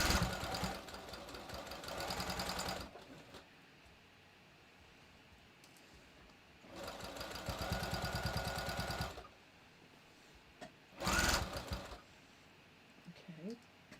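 A home sewing machine stitches the shoulder seam of a bathrobe in three bursts, two long runs and a short one, with quieter pauses between them.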